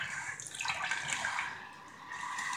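Running water rinses a dog during a bath, giving a soft, steady splashing flow up close with no talk.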